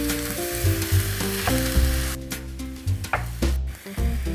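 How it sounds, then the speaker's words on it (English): Aubergine pieces frying in hot oil, a loud, close and continuous sizzle with crackling bursts and occasional stirring, with a steady low hum underneath. "Make sure that your oil is hot first, because then they will simply fry as they're meant to do"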